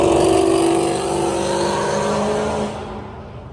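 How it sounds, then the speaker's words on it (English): A Dodge Durango Hellcat SUV engine drones loud and close at a raceway event, a steady throaty roar that holds for several seconds before falling away as the vehicle moves off. "We got a Durango Hellcat here."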